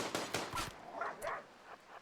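A dog in the colony-building video game Rimworld barks in a few short, sharp bursts, clustered early and again midway, with faint game effects around them.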